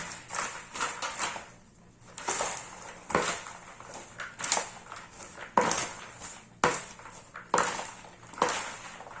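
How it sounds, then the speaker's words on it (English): Caramel popcorn mixture stirred in a pot, a spoon scraping and clinking against the metal in repeated uneven strokes, close and moderately loud throughout. "so I'll just be stirring so that everything will just be mixed well, to be properly mixed together"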